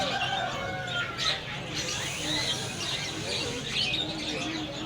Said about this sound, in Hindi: बरामा इसे कहते हैं गुब्बारा कबूतर।